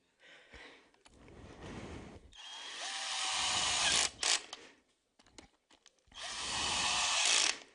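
A power drill drives screws in three separate whirring bursts, the last two longer and louder, with quiet pauses between them.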